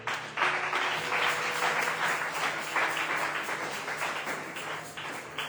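A church congregation bursts into steady, sustained applause with a bright, dense clatter of many hands, filling the room for several seconds with only faint murmurs underneath.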